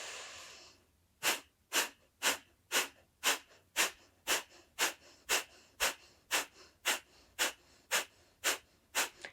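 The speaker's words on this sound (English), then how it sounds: "we're going to take a deep breath in together and then exhale together. So inhale, exhale fully." Deep yogic pranayama breaths during a guided yoga session, about sixteen even, rhythmic breath strokes repeating roughly every half second after a quiet start, close and clear with no talking.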